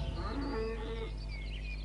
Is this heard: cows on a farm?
yes